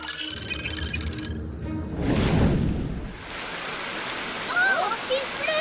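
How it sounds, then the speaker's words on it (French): Rain falls in a Sonic Boom cartoon: a rushing downpour swells in loud for a second or so amid other cartoon sounds, then eases off under lighter effects. "Oh, il pleut!"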